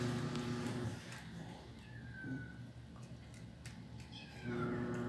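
A hungry stray cat meows a couple of times, moderately close, over a low steady hum with a person's voice murmuring at the start and end.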